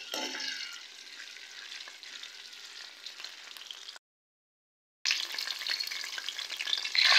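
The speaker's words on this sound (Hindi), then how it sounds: "अब हम इन मसालों को 30 सेकंड तक के लिए ऑयल में फ्राई करेंगे।" Whole spices sizzle and crackle in hot oil for a restaurant-style moong dal tadka. The frying is loud and continuous, broken by a second of silence before it resumes.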